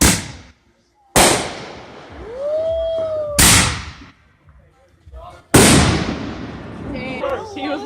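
Fireworks going off nearby during a July 3rd celebration: several sharp, loud bangs spaced a second or two apart, one with a rising whistle, with crackling and people's voices between blasts.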